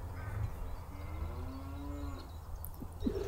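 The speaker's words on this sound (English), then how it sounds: "Depends on how friendly those cows are." Cows low in a long mooing call near a canal, a drawn-out bellow rising in the middle, heard at moderate distance over a steady low engine rumble.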